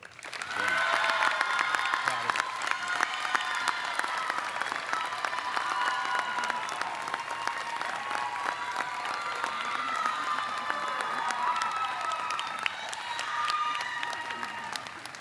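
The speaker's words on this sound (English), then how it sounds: "Nothing like bringing your own cheering section, Leo." Audience applause at a Dickinson convocation award, with some cheering: steady, dense clapping from a large crowd keeps going for about fifteen seconds without a break.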